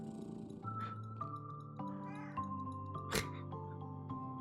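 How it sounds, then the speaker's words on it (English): A cartoon cat in the puzzle game Bento Blocks meows in a series of short, tonal calls over a soft, steady game backdrop. "The cat's purring."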